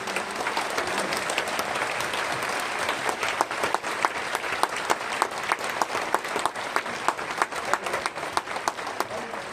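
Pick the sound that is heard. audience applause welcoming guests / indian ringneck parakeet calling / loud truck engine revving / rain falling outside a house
audience applause welcoming guests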